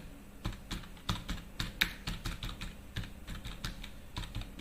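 Fingers tap on a computer keyboard in irregular bursts of sharp clicks, close and fairly quiet, with no talking.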